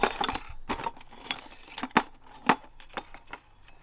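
Vintage mercury glass Christmas ornaments are handled, giving a series of light, irregular clinks and jingly taps close by over several seconds, with no talking.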